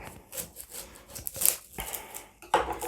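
Knife slicing an onion in half on a wooden cutting board in a home kitchen, a few close, distinct cutting taps and scraping rubs spaced irregularly, with no voices.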